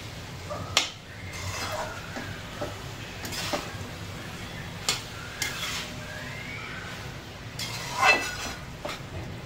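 Gentle, slow stirring of veg pulao rice in a pot, with soft scraping and a few sharp clinks of a spoon against the metal at irregular intervals over a quiet background.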